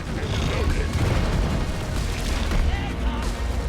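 Explosions in the video game Deep Rock Galactic roll out as a dense, loud, continuous booming rumble with heavy low thuds layered over one another throughout.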